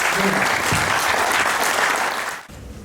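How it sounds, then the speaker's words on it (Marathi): A seminar audience at a dragon fruit crop workshop breaks into loud, dense applause to welcome a speaker, and it tapers off near the end. "सर्वांनी टाळ्यांच्या गजरामध्ये त्यांचं स्वागत करायचं"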